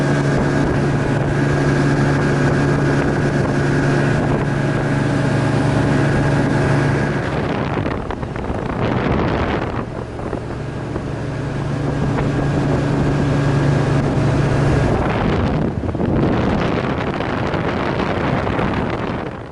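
An outboard motorboat engine drones loudly and steadily up close, its pitch holding then dipping twice as wind buffets the microphone; no one speaks.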